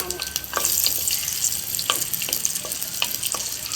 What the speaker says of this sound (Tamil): இஞ்சி பூண்டு ரெண்டையும் ஒன்றா போட்டாச்சு